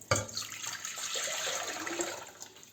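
A liter of water poured into a pot for a mackerel marinade, heard as a steady, close splashing pour that runs for a few seconds without any talk.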